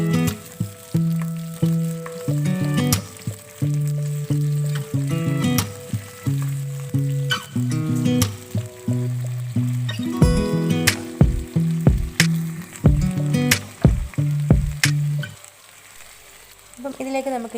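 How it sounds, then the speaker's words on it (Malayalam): Okra stirred and sautéing in hot oil in a pan, a close, steady sizzle broken by repeated clanks and scrapes of a spoon against the pan, quieting near the end. "നമ്മൾ നേരത്തെ എടുത്ത് വെച്ചിരുന്ന വെണ്ടയ്ക്ക എണ്ണയിലേക്ക് ചേർത്ത് കൊടുത്ത് നല്ലപോലെ"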